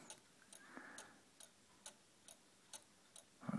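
Faint, regular cuckoo clock ticking, evenly spaced clicks about twice a second in a quiet room, with a soft mechanical whir partway through.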